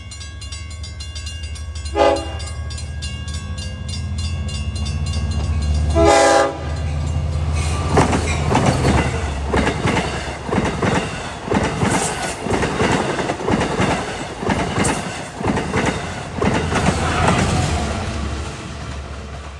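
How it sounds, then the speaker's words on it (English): A loud passenger train rolls past close by at Brentwood Road on the Montauk Branch, with two horn blasts followed by steady rumbling and rhythmic clickety-clack of wheels on the rails. "Coming westbound at Brentwood Road at 139 is train 13."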